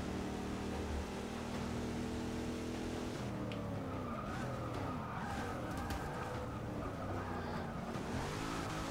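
A race car's engine roars continuously in Forza 6 as the car screeches through laps, rising and falling with shifts and tire squeal, loud and steady with no talk.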